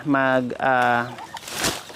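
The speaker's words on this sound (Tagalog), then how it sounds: "pati yung mga manok nandito nakatira" Chickens on a mountaintop farm clucking in two drawn-out calls close by, followed by a few softer scattered clucks.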